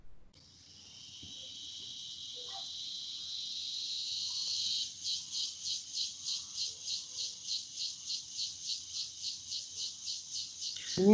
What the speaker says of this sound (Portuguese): Isso é a cigarra aí. É uma cigarra brava.